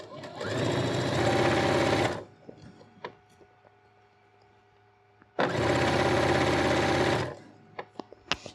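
A sewing machine stitches a hem through thick layers of denim in two loud, close, sustained runs of rapid whirring, with a short pause of faint clicks and handling between them.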